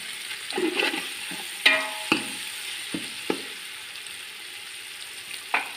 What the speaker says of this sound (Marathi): कांदा आपला मस्त फ्राय झालेला आहे.